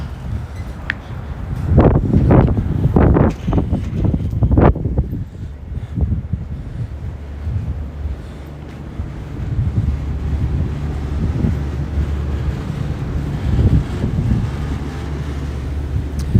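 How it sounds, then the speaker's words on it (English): Wind buffets the microphone near the water on a cold late walk. A strong gusty roar swells in the first few seconds, then settles into a steady rumbling blow with no voices. "Wind is picking up a little bit though, so it might get a little bit noisy."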